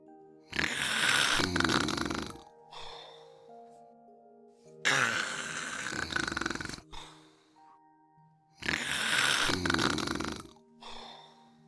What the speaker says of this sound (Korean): 어떤 사내 아이가 코를 골면서 자고 있었어요